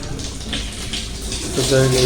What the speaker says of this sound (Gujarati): તો આ ટાંકો જે છે તે ભરી રહ્યા છીએ